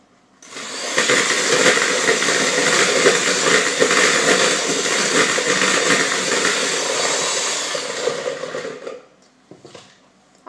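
An electric mixer beats softened butter for lemon cupcake batter. It whirs loud and steady for about eight seconds, then cuts off to near silence.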